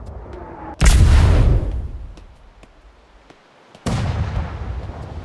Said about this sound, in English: Oh, they've got multiple cannons here.